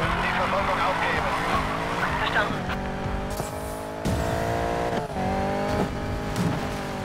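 In the Need for Speed Payback racing game, a car engine revs and shifts while tires squeal and skid, loud and continuous, with game sounds layered throughout.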